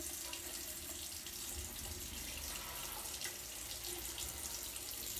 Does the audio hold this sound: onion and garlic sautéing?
no